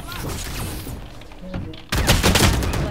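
Gunfire in a custom 4v2 Valorant match, a burst of shots with a sharper volley near the end of the short stretch, heard under players' Vietnamese voice chat.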